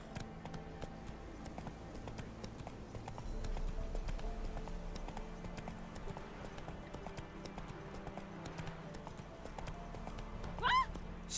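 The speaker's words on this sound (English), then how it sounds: "Chamar aqui o nosso cavalo." Horse hooves clip-clopping at a steady gait in The Witcher 3 game, with a short whinny near the end, moderately loud over a faint game ambience.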